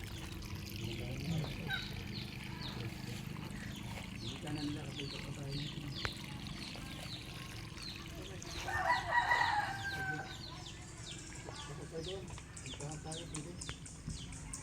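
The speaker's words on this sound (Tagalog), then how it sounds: "Yung marinig mo lang huni ng ibon, manok" Rooster crowing at a quiet mountain home, one loud call standing out midway over a bed of rural ambience and scattered bird chirps, with faint talk nearby.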